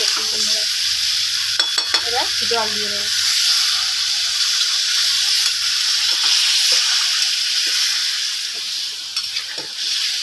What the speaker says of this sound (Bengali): তেল বেরিয়ে গেছে ফুল মাংসটা আমার পুরো কষানো হয়ে গেছে